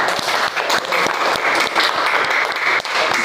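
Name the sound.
applause for a presenting group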